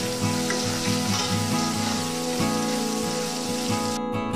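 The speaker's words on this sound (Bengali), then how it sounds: "সামান্য পরিমাণে গুঁড়ো হলুদ দিয়ে এটাকে ভালো করে ভেজে নেব।" Green banana pieces fry in oil with salt and turmeric, making a loud, dense, continuous sizzle with small crackling pops near the pan and no talking.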